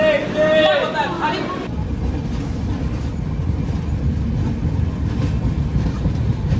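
A train entering a station as a steady low rumble and rattle that builds over several seconds. A voice talks at the start over background chatter.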